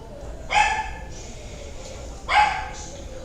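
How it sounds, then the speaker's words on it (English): Gigi, a small Yorkie, barks twice in sharp, high yips spaced about two seconds apart, fairly close and loud against a quiet room. "Don't mind the barking, fellas. That's just my dog Gigi. My Yorkie."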